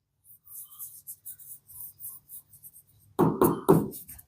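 Pen writing on paper while working a physics exercise answer, a series of soft scratchy strokes close by, growing louder and firmer near the end, with no talking.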